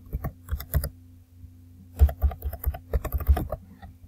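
Fingers typing a password on a computer keyboard, quick close key clicks in two short bursts separated by a pause, with a faint steady hum underneath.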